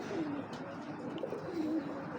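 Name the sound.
pigeons cooing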